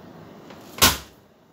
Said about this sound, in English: Next, we open the door.